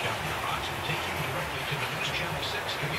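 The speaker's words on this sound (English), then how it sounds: "It's raining." Steady rain falls on a wet morning, a continuous, fairly dense hiss with a low rumble underneath and no clear voices.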